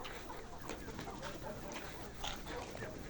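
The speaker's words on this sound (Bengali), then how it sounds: "এটা জাত হচ্ছে কাজী হাইলান কোম্পানির এই জাতের লেয়ার মুরগি।" Kazi Hilan layer hens, part of a batch of roughly 2000 birds on a poultry farm, cluck together in a steady, dense chorus with overlapping calls and no pauses.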